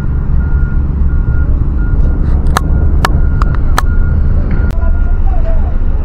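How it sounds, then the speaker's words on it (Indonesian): Soil-hauling trucks work a toll road construction site near a concrete batching plant, with a steady low engine rumble under a string of sharp repeated reversing beeps and a faint voice. "ini mobil-mobil yang beroperasi mengangkut tanah"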